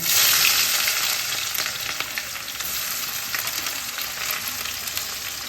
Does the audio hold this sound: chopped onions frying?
yes